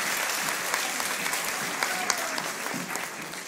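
A crowd of children at a kindergarten graduation claps loudly and continuously, a dense, bright roar of hands with a few cheers mixed in throughout.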